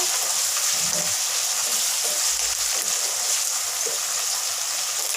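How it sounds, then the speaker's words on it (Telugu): Fresh coriander fries in hot oil in a home kitchen, giving a steady, close, hissing sizzle that runs unbroken with no voices. "కొంచెం ఆయిల్లో అది వేస్తే బాగా అనిపిస్తుంది అనమాట."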